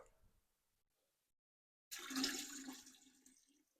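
Dirty water poured off a gold pan of paydirt during panning: after a quiet pause, a sudden rushing splash of water starts close by and runs steadily for about two seconds before tapering.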